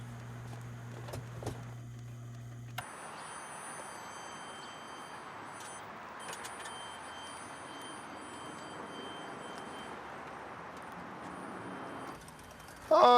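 A quiet electric car drives along, giving a faint, steady hum and soft road noise heard from inside, with a few light clicks early on and a louder bump at the very end.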